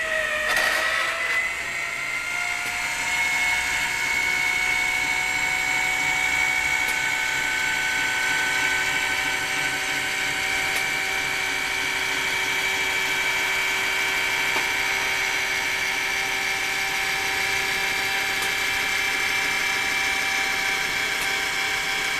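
A homemade scissor lift raises itself with a steady, loud mechanical whine and ratcheting gear drone that holds an even pitch for over twenty seconds, starting with a brief clunk, no voices present.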